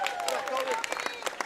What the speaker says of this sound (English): if you're wondering why you hear all that clapping on the air